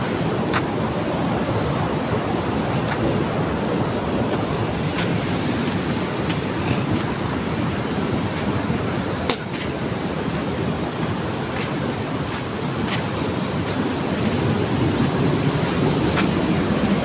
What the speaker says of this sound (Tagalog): Ganda ng dagat.